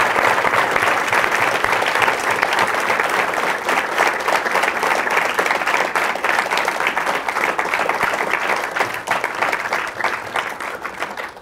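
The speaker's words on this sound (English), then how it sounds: "Give a big round of applause to the people at home for watching." An audience at a university lecture on free speech and free markets breaks into dense, sustained applause that holds steady and loud throughout, thinning only slightly at the very end.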